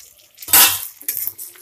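Ginger-garlic paste and onion frying in a pan, with a loud burst of sizzle and a spoon scraping the metal, followed by quieter stirring and clinks.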